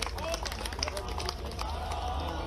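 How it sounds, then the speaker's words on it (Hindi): A dense, steady wash of crowd clapping for Madhya Pradesh Chief Minister Dr. Mohan Yadav at a public event in Ujjain, loud and continuous for the whole stretch with crowd murmur mixed in. "तालियों की गड़गड़ाहट के साथ आप अभिनंदन"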